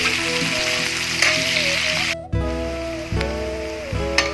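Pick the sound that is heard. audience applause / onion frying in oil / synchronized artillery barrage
onion frying in oil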